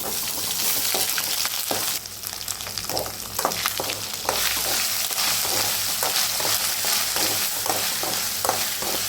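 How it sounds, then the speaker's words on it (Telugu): Ginger garlic paste frying in hot oil for a spicy chicken fry, a loud, continuous sizzle broken by regular scraping strokes of a spatula stirring in the pan, close up and with no talking. "అల్లం వెల్లుల్లిపాయ పేస్ట్ కూడా చక్కగా గోల్డెన్ కలర్లో వచ్చే వరకు మనం ఫ్రై చేసుకుందామండి"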